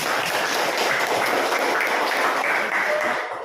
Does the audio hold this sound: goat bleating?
no